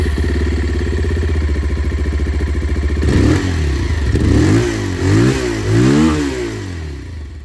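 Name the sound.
Bajaj Pulsar 180 motorcycle exhaust sound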